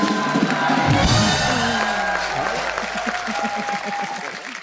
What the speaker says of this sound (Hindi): जोरदार तालियां हो जाए हमारे कलाकारों के लिए।